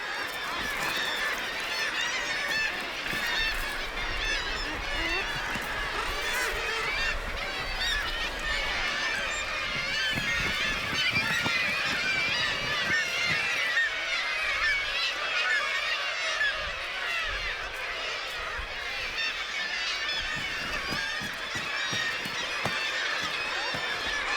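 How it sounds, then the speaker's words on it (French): A crowded colony of northern gannets squabbling, with a dense, continuous chorus of harsh honking calls from many birds, loud and close throughout. "Les oiseaux manquent de place. Et il arrive qu'ils se disputent."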